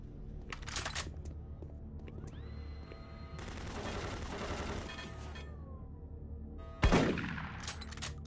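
Automated turret guns fire in Doom 3, a rapid rattling burst lasting over a second, followed later by a single sharp, loud bang, set against humming sci-fi ambience.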